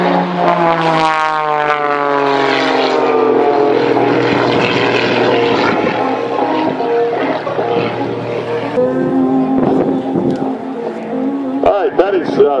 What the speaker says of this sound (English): She's going to fly the airplane sideways, as you saw.